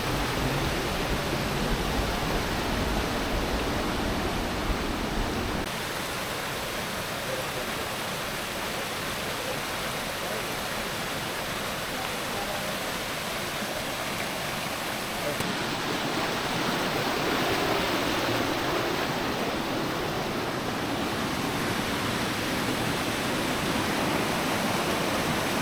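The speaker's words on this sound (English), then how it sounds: "There's waterfalls all the way down Pucks Glen." A steady, full rush of falling water roars without pause, dense and unbroken, like cascades tumbling down a rocky gorge, from waterfalls in Puck's Glen, Scotland.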